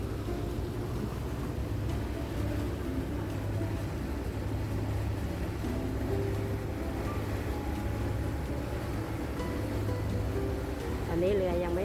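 A ferry's engine idles at North Point pier in Hong Kong before departing for Kowloon, a steady low rumbling drone that holds close and constant throughout with faint harbour background.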